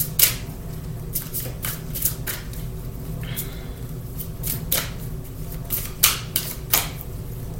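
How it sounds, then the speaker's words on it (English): Goddess Guidance Oracle cards are shuffled by hand in a quiet room, giving a close series of crisp, irregular riffles and slaps that repeat over several seconds. "I'm going to go ahead and pick a Goddess Guidance Oracle card"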